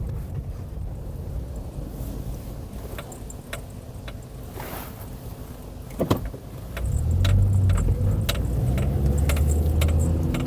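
Toyota car with an MMT semi-automatic gearbox driving forward, a steady low engine and road rumble that swells and grows louder partway through, with no talk over it.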